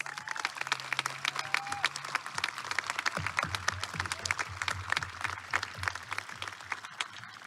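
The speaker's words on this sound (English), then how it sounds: "Let's give them a round of applause." Crowd applause at a 2021 high school graduation ceremony, individual claps distinct and fairly quiet, heard from a distance in a large space.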